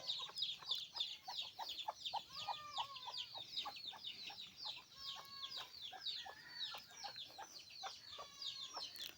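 Chickens clucking steadily at a rural farm field, a dense run of short repeated clucks and calls from several birds close by, with no speech.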